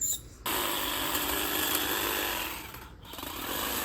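A telescopic-shaft hedge trimmer cuts a Philadelphus shrub with a sharp, continuous high buzz that starts abruptly, dips briefly near the end, then returns at full strength, close up with no talking.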